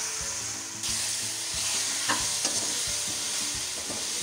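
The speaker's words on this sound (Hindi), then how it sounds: "और इसमें मैं ये टमाटर वाला पेस्ट डाल दूँगी। अब घी निकलने तक इसे पकाऊंगी।" Tomato masala paste fries in ghee for bhindi masala, a steady loud sizzle with repeated stirring scrapes and knocks of a spoon against the pan.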